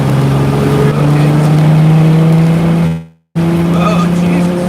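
A race car on a track at full throttle, with a loud, steady engine drone close by that cuts out abruptly for a moment before resuming.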